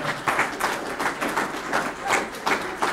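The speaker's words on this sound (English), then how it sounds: "Let's give her a big round of applause." Audience applause at a downtown association's annual meeting, a steady wash of many hands clapping through the whole stretch, fairly close and dense with no talking over it.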